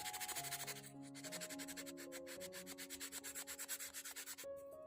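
Fine sandpaper rubs over a small handmade micro termite fishing lure in quick, rhythmic back-and-forth strokes, close and steady, with sustained musical tones underneath.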